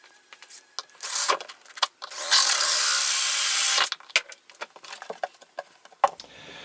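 A 35 mm hole is drilled for a wall fitting that will carry 25 mm pipes, a steady loud grinding burst lasting about a second and a half, set among scattered knocks and handling clatter before and after.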